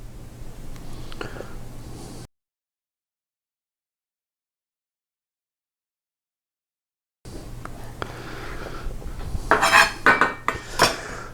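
Knife clatter and clinks of cutlery against dishes as figs are cut for fig and bourbon jam, in two bursts split by a long silent gap, with a busier run of sharp clicks and scrapes near the end.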